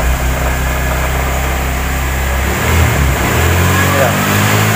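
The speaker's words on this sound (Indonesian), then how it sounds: "Kita coba gas sedikit." A Honda Vario 110 carburetor scooter runs with a charging-voltage fault, its engine idling with a steady low drone, then picking up slightly when the throttle is opened briefly, close by with someone talking over it.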